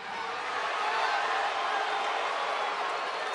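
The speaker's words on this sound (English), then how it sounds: "Sounds like we got a couple ghosts in the crowd" Arena crowd at a WWE Raw Halloween show letting out long, sustained moaning ghost-like calls, a broad steady swell of many voices rising slightly then holding at a loud, even level.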